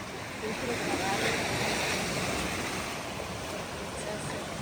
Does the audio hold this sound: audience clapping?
no